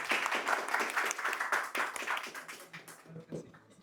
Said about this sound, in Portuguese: Então, salva de palmas.